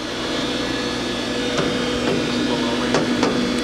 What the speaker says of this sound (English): now we're going to run the spindle